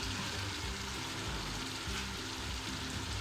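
Cooked beef keema simmers in biryani masala with green chilies, giving a steady, quiet sizzle and bubbling with a low, rhythmic cooking texture throughout and no voices.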